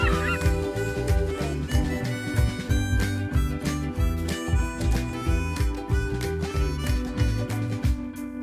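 A gannet colony calling, with dense, repeated harsh honking cries overlapping in a loud, rhythmic chorus close by and no voices.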